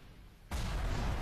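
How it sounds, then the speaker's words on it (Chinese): Dense gunfire and artillery erupt suddenly after a quiet moment and become a continuous, heavy roar of overlapping shots and blasts, set in a night attack on an army barracks. "就已经不明不白地倒在了密集的枪炮声中"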